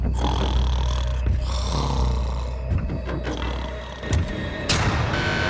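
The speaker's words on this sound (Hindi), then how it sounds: "वो स्टूपिड कॉप सारी रात खर्राटे मारता रहा।" A man snores loudly and steadily while asleep, and the long rasping breaths stay close and fill the whole stretch with no talk.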